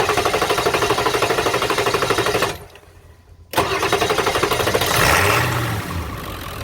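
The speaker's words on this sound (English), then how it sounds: "Let's go start the truck." A Ford F-250/F-350 pickup truck engine cranks with rapid rhythmic chugging, cuts out briefly, then catches and roars to life before settling into a steady idle. Loud and close.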